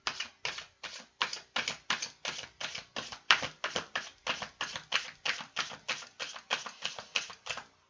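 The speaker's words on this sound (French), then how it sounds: "à battre les cartes." Tarot cards being shuffled, about twenty quick crisp riffling bursts in an even rhythm, close and fairly loud, with no talking.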